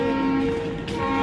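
A train whistle or horn sounds at a railway station as the train prepares to leave, a steady sustained tone running through the whole moment, close and fairly loud.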